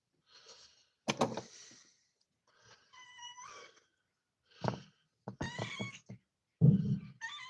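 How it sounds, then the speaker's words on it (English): A young pet cat meows several times in short, separate calls, some drawn out and tonal, close to the microphone, with brief quiet gaps between them. "This is my baby cat. She needs to eat some."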